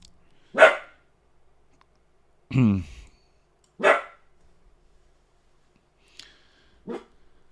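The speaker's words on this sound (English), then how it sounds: "Maxie, what are we barking at?" A dog named Maxie gives a few separate barks spaced seconds apart, fairly close, with near silence between them and a faint extra bark near the end.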